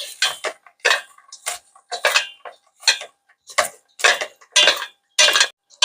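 Seasoned stonecrop salad being stirred with a utensil in a bowl, a series of sharp clicking, scraping contacts in an irregular rhythm, close and alone with no talk.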